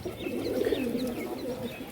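Rajshahi local Giribaz pigeons, a green-barred breed with white heads, cooing steadily at close range, with faint chirps from other birds behind.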